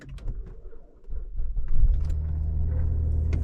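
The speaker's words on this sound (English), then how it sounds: "it started no problem at all. Well, hey! Quite a nice exhaust, no tone cold start" A Cadillac BLS 2.8 V6 turbo fires up from cold, its start-up burst settling into a steady, loud, deep exhaust idle rumble close by.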